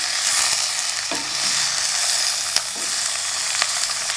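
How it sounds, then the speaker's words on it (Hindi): Chopped tomatoes and green chillies being mixed in a hot pan for a bitter gourd curry, giving a loud, steady frying sizzle with several sharp spatula scrapes and knocks, close up. "अब इनको हम अच्छे से मिक्स कर लेंगे।"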